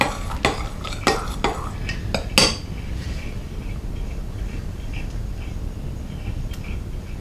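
Fluffy slime is stirred in a bowl while food colouring is mixed in, giving a few sharp clicks and scrapes early on, then a steady soft background with faint scattered ticks.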